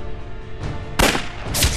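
Gunfire in a wartime skirmish: a few sharp, loud shots crack close by in quick succession, ringing briefly after each blast.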